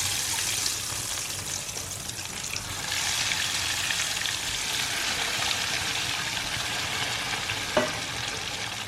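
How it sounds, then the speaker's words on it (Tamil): Potato cutlets (aloo cutlets) fry steadily in hot oil, a dense, even sizzle and crackle running nonstop close by, with a brief clink near the end and no talking. "நம்ம இப்போ வந்து நம்மளோட கட்லெட்டை வந்து ஃப்ரை பண்ணி எடுத்துடலாம்"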